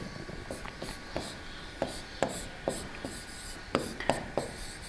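Writing a point during a lesson, with a pen or chalk making short, faint scratching strokes in an irregular rhythm over a quiet room.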